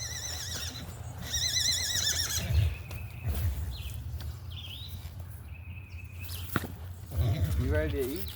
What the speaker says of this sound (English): The miniature horses probably heard me, and that's why they're getting all excited.